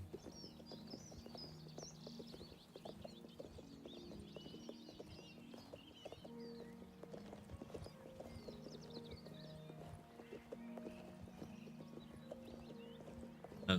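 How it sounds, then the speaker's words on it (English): Horse hooves clip-clop in a steady rhythm in the video game Oblivion over soft game music, with occasional bird chirps in the background and no speech. "We're riding our horse."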